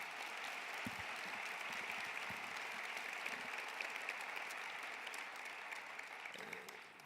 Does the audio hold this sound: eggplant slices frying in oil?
no